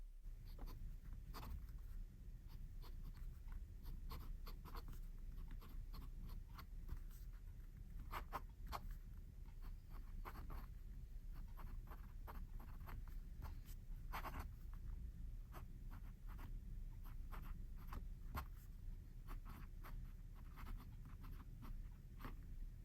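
A Sheaffer Intensity fountain pen writes on Rhodia paper: very faint, soft strokes and small ticks come in irregular bursts, close up in a quiet room.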